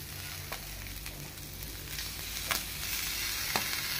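Chicken liver sizzles steadily in a frying pan. A few distinct stirring clicks land about once a second over a constant hiss and a low background hum, close and moderately quiet.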